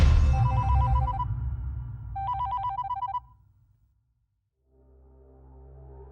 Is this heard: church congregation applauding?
no